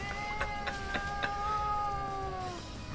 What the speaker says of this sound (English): I'm sorry, I have my cat in my lap here. Gee, she's really going at it.